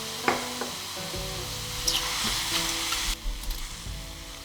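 Mushrooms and broccoli stems stir-fried in a pan with homemade oyster-style sauce and soy sauce give a steady close sizzle, with scattered scraping and clicking from stirring and no talking.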